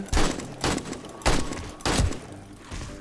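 Gunfire in 7 Days to Die, four sharp loud bursts roughly half a second apart, each a heavy booming crack followed by a brief decay, close and alone.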